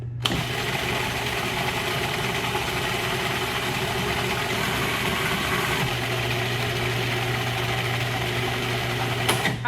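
Blender whirring steadily as it purees spinach pesto made with fresh spinach, Parmesan, pine nuts, lemon juice and olive oil, a continuous loud motor drone that shifts pitch slightly midway and runs nearly ten seconds.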